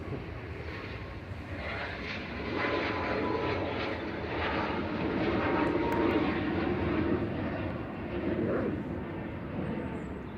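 A Boeing 737 MAX jet airliner roars steadily as it takes off and climbs away from Manchester Airport, a broad rumbling engine noise swelling slightly midway and holding loud throughout.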